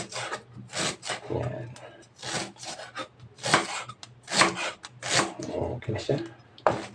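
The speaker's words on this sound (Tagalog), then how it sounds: "Guys, siwain natin yung ating luya." A knife slicing fresh ginger (luya) for a Filipino fish soup, giving repeated short rasping cuts in a steady rhythm, close and fairly loud, mixed with someone talking.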